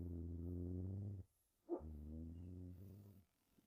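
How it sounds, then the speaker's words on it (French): Giant shepherd dog growling, deep sustained rumbling growls in two long bursts separated by a short pause, close and fairly quiet, with no talking. "Il grogne vraiment fort en ce moment."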